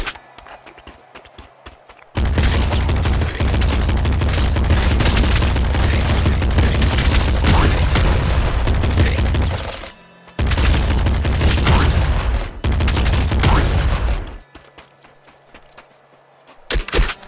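A slugger, a shotgun-type weapon in Nuclear Throne, fires in loud, heavy booming blasts that run nearly continuously for several seconds, stop briefly, then resume before fading to quieter game sounds.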